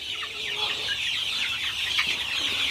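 Chickens cluck and chirp steadily in a chick brooder on a farm, a continuous busy chatter of many birds close by with no talking.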